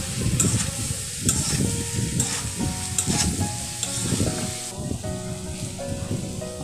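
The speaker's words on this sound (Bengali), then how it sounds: "শুটকিগুলো দিয়ে মোটামুটি কিছুক্ষণ এগুলা ভেজে নিব" Dried fish (shutki) fries in a pan with a continuous crackling sizzle, broken by the scrape of stirring at a steady pace, close and moderately loud.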